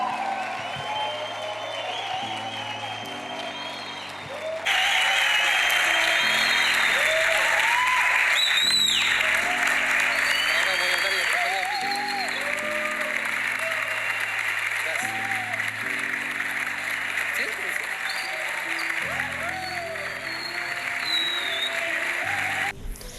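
Audience applause at a testimony event as a doctor is welcomed, broad clapping rising after a few seconds and holding steady, heard beneath tonal music and some speech.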